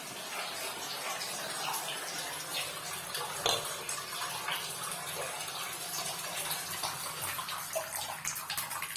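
Strong tap water gushes steadily and loudly into a tub or basin, a continuous close rushing stream with no pauses and no talk over it.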